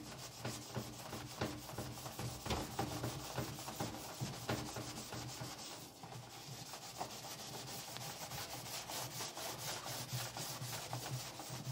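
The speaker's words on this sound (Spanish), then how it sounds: "Miren, miren lo fácil que quita con esta esponja." Sponge scrubbing a disassembled washing machine tub with liquid soap, a continuous close rasping rub with quick back-and-forth strokes throughout, fairly quiet and without talk.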